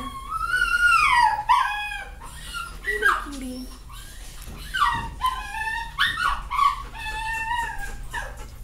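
A dog in a kennel howls and whimpers in long, wavering, high-pitched cries close by, pausing between bursts, with a person speaking softly to it at points.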